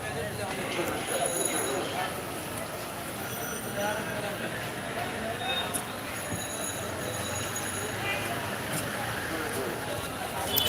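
Busy Sylhet railway station in Bangladesh, with a steady wash of train and platform noise, metallic clinks and faint high wheel squeal, voices talking throughout close by.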